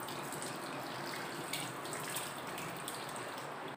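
Tap water runs steadily over vegetables being washed, a continuous close splashing hiss with small irregular spatters as the produce is moved under the stream.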